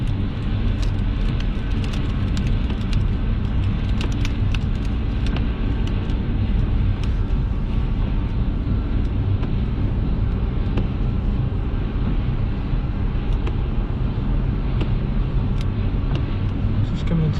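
A car drives along the snowy M20 motorway among lorries, a loud continuous rumble of engine and road noise throughout, with scattered clicks and someone talking over it at times.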